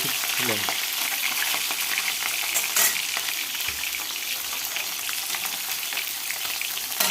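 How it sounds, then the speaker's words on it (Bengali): Fish fry in plenty of spitting oil in a pan, giving a loud, steady sizzle with occasional sharper crackles and pops throughout. "আমার মাছগুলো প্রায় ভাজা হয়ে গেল"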